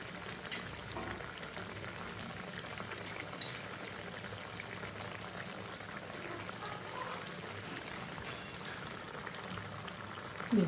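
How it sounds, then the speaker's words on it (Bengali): Eggplant and tilapia fish curry bubbles in a pot, a faint, steady simmering burble with no talk, ending in a small clatter. "আর একটু ফুটিয়ে নেব।"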